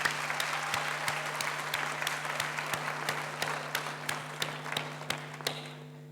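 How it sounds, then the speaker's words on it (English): Graduation ceremony audience applauds academic and support staff, a moderate crowd clapping with distinct sharp claps standing out in a loose rhythm above a constant low hum, tapering slightly at the end. "Could we give the academic and support staff a round of applause,"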